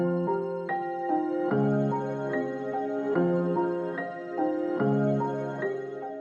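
A dark trap melody built from two layered piano presets over a Sonology pad, playing sparse, repeating plucked notes in a slow, steady rhythm with sustained low pad tones underneath, clear and upfront with no voices.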